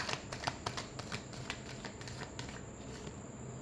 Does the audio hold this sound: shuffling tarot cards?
yes